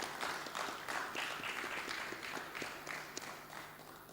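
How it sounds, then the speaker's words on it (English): Audience applause at a national peace project workshop for presbytery directors, steady, dense clapping from a crowd sustained throughout, fading slightly toward the end. "Let us show appreciation with once again applaud."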